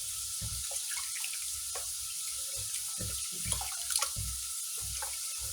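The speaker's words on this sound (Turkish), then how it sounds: "birkaç su yıkamam gerekecek arkadaşlar" Tap water runs steadily into a sink while leeks are washed, a close, continuous splashing stream with soft knocks and drips from handling the vegetables, no talk over it.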